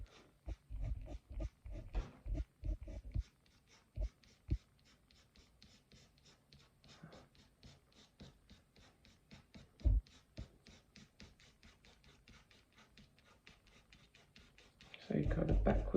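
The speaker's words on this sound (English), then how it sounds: "You can either use little flicks with the point of your pencil, or you could use your pencil on its side." Pencil shades a hedgehog drawing on paper in quick, repeated flicking strokes, a close, fast scratchy rhythm that runs throughout, with a louder handling noise at the end.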